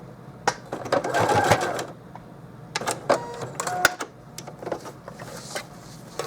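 Sewing machine back stitching RV curtain fabric, giving short whirring bursts of stitching close by with clicks and pauses between runs.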